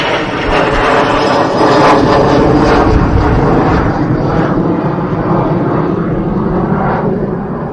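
EasyJet passenger jet passing at Manchester Airport, a loud, steady roar of jet engines that stays strong throughout and eases slightly toward the end.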